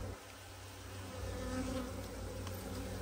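A steady, dense insect buzz fills the clip, a continuous hum of many honeybees close by inside a hive, with no voices.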